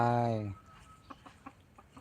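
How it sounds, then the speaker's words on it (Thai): A hen gives a drawn-out squawk, then several soft, short clucks follow at irregular intervals, close by and fairly quiet, in rural Surin, Thailand. "ไก่ไม่ยืนทำอะไรตรงนี้"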